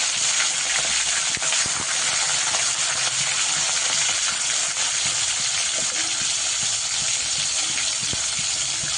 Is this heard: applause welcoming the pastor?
no